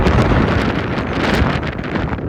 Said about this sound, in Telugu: విపరీతమైన గాలి అయితే వేస్తుంది. భయంకరమైన గాలి.